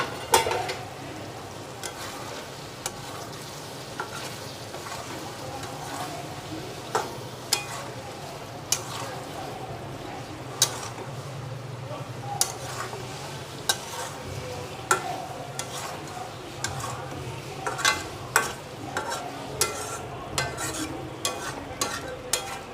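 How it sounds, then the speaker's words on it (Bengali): Chicken kadai being stirred and sautéed in a pan, with a steady sizzle of frying under repeated scraping and clinking of a utensil against the pan, close and moderately loud throughout. "ঢেকে রাখার পরে যখন জল ছাড়বে তখন আবার ভালো করে কষাবো"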